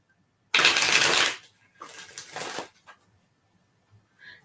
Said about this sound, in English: Let me get all shuffled up here.